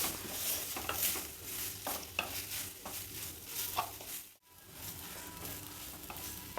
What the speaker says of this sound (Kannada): ಸ್ವಲ್ಪ ಹುರಿಬೇಕು